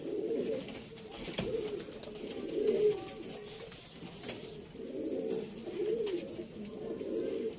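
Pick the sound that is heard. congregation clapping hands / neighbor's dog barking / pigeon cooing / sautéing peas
pigeon cooing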